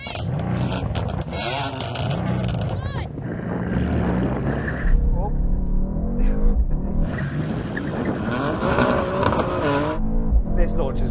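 A BMW M3 Touring launches hard off the line in a drag race against an AMG C63 S Estate, the engine roaring loudly and steadily throughout, with people talking over it.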